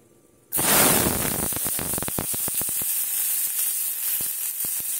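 Garlic hits hot oil in a wok with a sudden loud sizzle that settles into steady crackling frying, punctuated by sharp pops, close and without talk.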